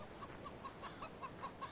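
Chickens in the Farming Simulator 17 video game, soft repeated clucks in a quick regular series, fairly faint and close, with no speech.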